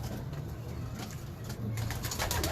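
Batera pigeons with their young coo in a loft, soft, low and unbroken, rising slightly in loudness toward the end, with no one talking.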